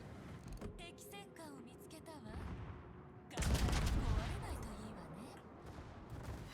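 Secondary guns on a warship fire in the World of Warships video game, a rumbling barrage of booms with a heavier low blast midway, over game effects and someone talking.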